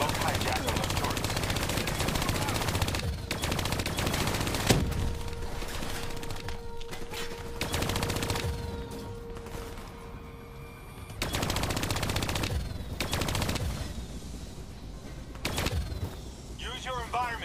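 Turrets firing in Call of Duty Black Ops 3, long loud bursts of rapid automatic fire with short gaps and a steady electronic tone between volleys, game voices audible among the shots.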